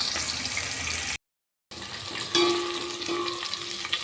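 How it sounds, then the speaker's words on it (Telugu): Onions frying in a pan of oil while making sambar, a steady broadband sizzle with a short gap of silence partway through, then continuing with faint clinks and a slightly louder hiss near the end. "ఈ ఆనియన్స్ కూడా ఇలా చక్కగా ఫ్రై అవనిద్దామండి."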